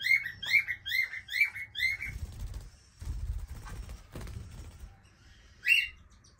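Lovebirds chirp in quick, bright repeated bursts inside a bird house made of hair, loud and close at first, then giving way to soft rustling and fluttering before one last chirp.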